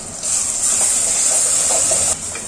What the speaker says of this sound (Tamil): எல்லாம் சேர்ந்து நல்லா வதங்கட்டும்.